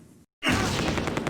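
Grenades explode in the World War II strategy game Close Combat: A Bridge Too Far, a sudden loud blast after a brief silence, then a sustained roaring crash with rapid crackling bursts.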